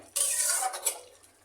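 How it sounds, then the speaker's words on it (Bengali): Chicken biryani being stirred in a pot, a single close scraping and rustling pass of a spoon through the rice that fades out within about a second. "দমে দেওয়ার আগে আমি একবার একটু নাড়াচাড়া করে নিলাম"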